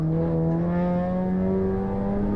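A front-wheel-drive car on street tires in Assetto Corsa accelerating out of a corner, its engine note climbing smoothly and steadily in pitch, loud and close with no talk.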